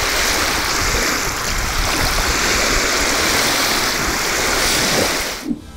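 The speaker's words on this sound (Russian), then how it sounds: "у Финского залива особенный, звенящий, такой холодный саунд" Water of the Gulf of Finland on the Baltic Sea coast in Estonia, a loud, continuous rushing wash of waves that holds steady before dropping away abruptly at the very end.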